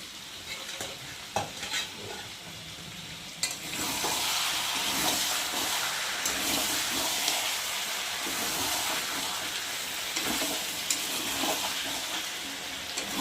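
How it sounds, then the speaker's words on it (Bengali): Chicken curry being stirred in a pot after the lid comes off: occasional knocks at first, then a steady hissing sizzle with scraping stirs, close and continuous, with no speech. "এবার ঢাকাটা খুলে একটু ভালো করে নেড়ে দেবো"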